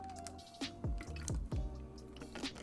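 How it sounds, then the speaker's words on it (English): A streamer drinks water during a Pokémon GO battle commentary: several close, wet gulping and swallowing sounds in quick succession, alone without talk. "Sorry for drinking water."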